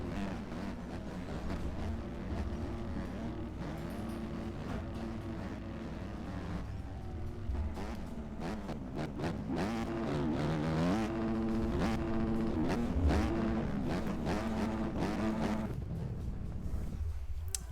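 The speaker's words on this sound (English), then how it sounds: "Here comes Paradox, class manager for Backyard MX, just having fun out here on the Lommel track" Motocross motorcycles race on the sandy Lommel track, engines droning and revving continuously at a distance with rising and falling pitch, a steady blended roar of several bikes.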